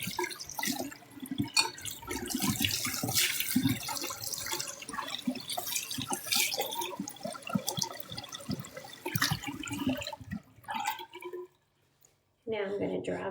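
Steady running water from a sink tap while hands are rinsed, splashing continuously for about ten seconds before cutting off, followed by a short burst of sound afterward.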